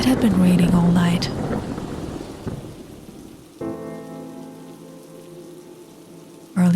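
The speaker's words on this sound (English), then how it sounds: "It had been raining all night." Night rain pours down during a storm with a rumble of thunder in an animated story, the heavy hiss fading as a brief voice and then a musical tone take over.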